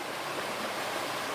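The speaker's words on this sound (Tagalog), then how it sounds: "ang ganda ng agos ng tubig oh" Broadband rushing water from a flowing stream swollen by rain, steady and close throughout with no voices.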